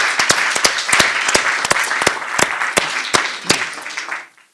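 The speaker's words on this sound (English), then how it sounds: "we should do a round of applause to start with" A small audience at an education and social mobility debate gives a short round of applause, scattered individual claps close by that thin out and stop after a few seconds.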